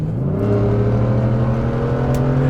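A new Ford F-150 Raptor and a 2010 F-150 Raptor accelerate side by side in a drag race, engines rising in pitch as they rev loud and close.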